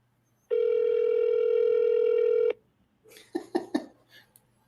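A telephone rings unanswered on an outgoing call, a single steady two-second electronic ring tone, loud and close, followed by a few coughs and some rustling.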